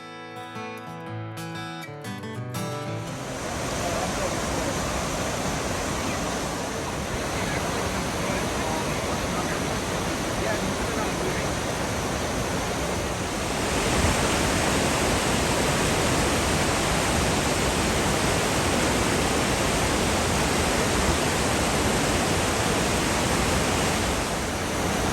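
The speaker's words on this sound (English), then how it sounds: "Once you're at Hidden Falls" Hidden Falls in Grand Teton National Park roars as a constant, broad rush of falling water. The sound is loud and close, and it swells slightly louder partway through with no talking.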